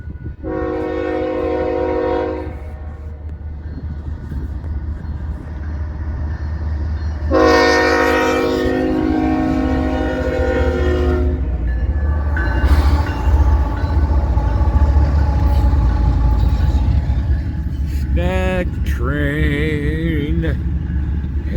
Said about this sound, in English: Looks like it might be a stack train.